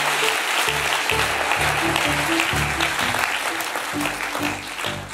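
A church congregation claps loudly and steadily in rhythm during a French worship service, with voices singing or calling out beneath the applause throughout.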